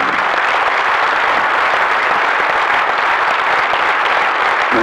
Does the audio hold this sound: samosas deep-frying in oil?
no